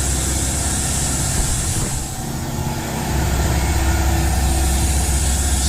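A loud air compressor runs nonstop alongside a Harbor Freight vacuum brake bleeder drawing fluid through the brakes of a 1971 GTO, a dense, steady mechanical drone filling the whole span.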